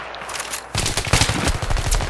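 M6 weapon firing in Battlefield 3, a video game: a quieter lead-in, then a sudden onset of rapid, dense automatic gunfire with punchy, closely spaced reports continuing to the end, no talking.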